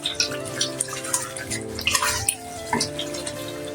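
Chicken and onion are stirred in a kadai, with wet, sloppy scraping and soft clinks from the spoon against the pan arriving in uneven strokes, close and moderately loud, with no voices.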